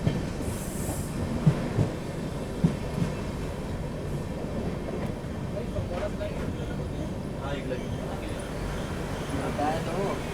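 Amritsar Shatabdi Express passenger train running on the rails, a steady rumble of wheels with faint clicks and a few squeals heard from inside an AC chair car, continuous throughout.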